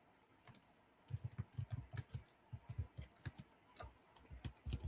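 Fingers typing on a computer keyboard, a quiet, close run of uneven rapid key clicks with brief pauses between bursts, alone without any voices.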